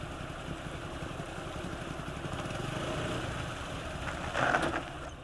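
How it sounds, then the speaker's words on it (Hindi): A motorcycle engine idles steadily after the bike stops, a close, even mid-pitched rumble that holds throughout with a brief swell near the end. "बाइक क्यों रोक दी भैया?"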